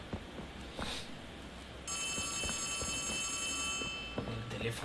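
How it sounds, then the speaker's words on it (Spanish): A telephone rings inside the horror video game Poppy Playtime Chapter 3, a bright electronic trill that cuts in partway and carries on over low game ambience and scattered noises. "El teléfono"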